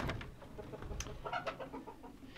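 Chickens cluck in a coop where some birds have been sick, with several soft, overlapping clucks and chirps close by across the whole stretch and no talk.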